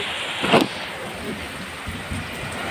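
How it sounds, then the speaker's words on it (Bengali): Steady rain hisses throughout with a soft thud or rumble early on, no voices. "প্রচুর বৃষ্টি হচ্ছে"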